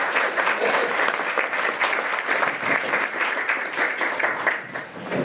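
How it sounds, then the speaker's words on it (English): A round of applause from an audience at a community talk series event, steady dense clapping at moderate volume sustained throughout, with no speech over it. "So please give them a round of applause."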